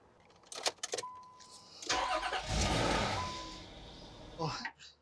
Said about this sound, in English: Then we'll go ahead and start the car and do a pressure test with the engine running